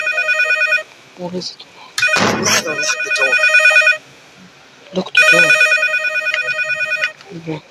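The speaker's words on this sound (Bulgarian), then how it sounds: "чувам телефон." Telephone bell ringing in repeated bursts, loud and near, with a crash and thuds between rings and people speaking over parts of it.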